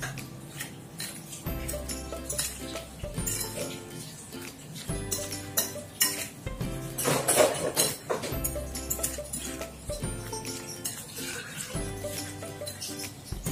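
Eggplant salad being tossed with apple cider vinegar in a bowl: a spoon or utensil repeatedly clinks and scrapes against the dish in an uneven stirring rhythm, close and moderately loud, with no talking.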